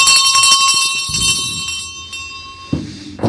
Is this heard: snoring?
no